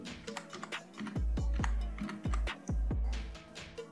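Typing on a computer keyboard, a series of close key clicks and taps in a steady rhythm, with several heavier low thumps among them, no talk.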